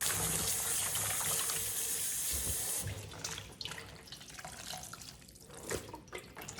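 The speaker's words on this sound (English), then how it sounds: "So it's time to start the process of washing 3 times." Tap water runs steadily into a sink as salted cabbage for kimchi is washed, a strong gushing stream that gives way partway through to quieter splashing and handling of the leaves.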